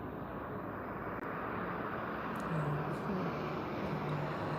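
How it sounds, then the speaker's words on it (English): A fixed-wing airplane passes overhead as a steady, broad engine drone that swells slightly toward the end, with some faint background talk. "The plane."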